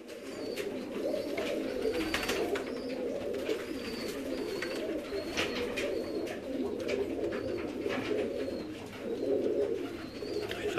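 Rawalpindi black pigeons, a crossbred breed, cooing repeatedly in a flock, with overlapping soft coos over a continuous dense murmur and some scattered chirps, fairly close.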